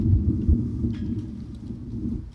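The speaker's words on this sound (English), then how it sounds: "At least it's not rain, just wind." Wind buffets and rumbles against the microphone at an outdoor flag-raising ceremony in Riverside County, a low gusting roar with no voices.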